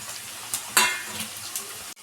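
Sliced onion and green chilli fry in hot oil, a close, steady sizzle broken by a few scraping stirs and one louder hiss.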